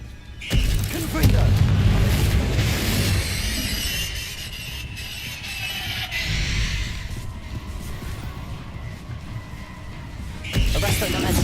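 Confringo fire spells exploding in Hogwarts Legacy gameplay, loud booming blasts at the start and again near the end with a rumbling game soundtrack underneath.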